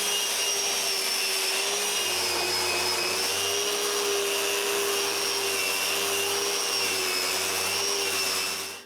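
Steady, loud power sander working 60 grit sandpaper across a live edge wood fireplace top, a continuous whining hum with a strong tonal drone that holds unbroken for the whole stretch, close up and alone without talk.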